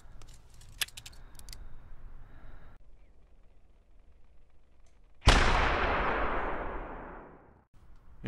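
A hunting rifle fires at an Alpine Ibex in theHunter, a single sharp loud report that bursts suddenly and then rolls off in a long decaying echo after a quiet stretch of faint outdoor ambience.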